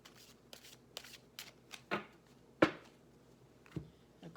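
Close, crisp riffling of tarot cards being shuffled, a series of short flicks and snaps spaced about half a second apart, with no talking.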